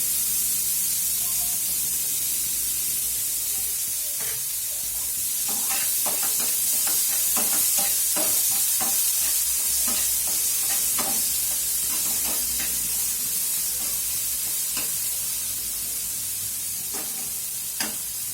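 Boiled, drained vegetables stir-fry in a cumin tempering, with repeated scraping strokes of a spatula over a steady background sizzle and no voices.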